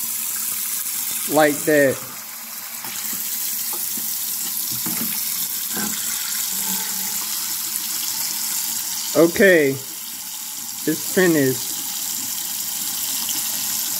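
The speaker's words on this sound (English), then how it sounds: "Look at that water run." Water runs steadily from a tap into a sink, a continuous hiss with a few brief spoken words on top.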